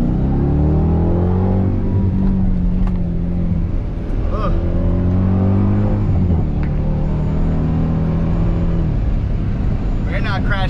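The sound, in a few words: supercharged Dodge Durango Hellcat engine revving in traffic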